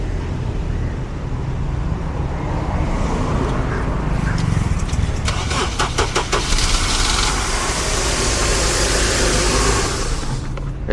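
An old Honda Accord engine, with a faulty fuel pump, cranks and catches, then runs with a loud, rough idle that fills the clip before briefly dropping away near the end as it stalls.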